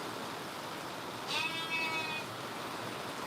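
Sheep bleating once in a lambing shed, a short wavering call rising over steady rain hiss from a downpour outside, fairly distant and soft.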